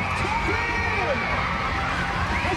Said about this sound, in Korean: 운동회의 백미, 이어달리기가 시작되자 응원이 달아오릅니다.